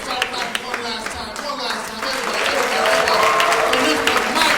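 Comedy club audience in Chicago bursts into applause, a dense wash of many hands clapping that swells and grows louder toward the end, with voices and some crowd noise mixed in.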